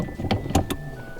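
A CAE chassis-mounted shifter in a Subaru WRX snaps through gears with three quick, close mechanical clunks in about a second.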